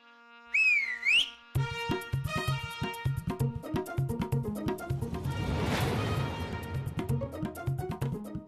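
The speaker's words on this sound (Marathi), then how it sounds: "शिट्टी वाजवतो." A person whistles loudly to call someone, with sharp rising and falling whistle notes near the start, followed by a burst of bright, busy musical score that swells and continues to the end.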